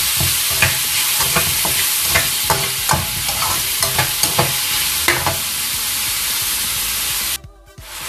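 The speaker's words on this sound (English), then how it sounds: "Let's sauté the onion for 2 to 3 minutes." Onion sautéing in a pan for a big batch of cottage pie filling: a loud, steady sizzle runs throughout, with repeated scraping stirs of a utensil, until the sizzle drops away abruptly near the end.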